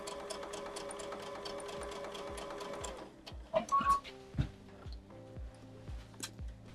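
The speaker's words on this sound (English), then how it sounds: "Sewing the two kind of opposite curves together here, it's going to make it have a little bit of body." A sewing machine stitches curved quilt pieces together in a steady rapid run for about three seconds, then stops, followed by scattered handling clicks and fabric thumps.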